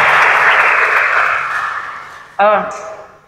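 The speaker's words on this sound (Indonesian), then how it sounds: "Kita kasih aplaus untuk Nana ya, untuk perkenalannya." Audience applause for a speaker named Nana after her introduction, a broad sustained wash of clapping that slowly fades, with a short loud voice-like burst near the end.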